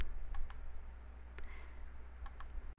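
Computer mouse clicked while working in Photoshop, several quiet sharp clicks spaced irregularly, some in quick pairs, over a low steady hum with no talking.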